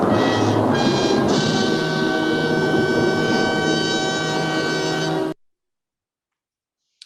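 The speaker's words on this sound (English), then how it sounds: "this is the sound that goes under Dramatic Chipmunk" A dramatic orchestral string crescendo of the kind used in Young Frankenstein, a sustained, dense swell of bowed strings that holds loud and steady for about five seconds and then cuts off abruptly into silence.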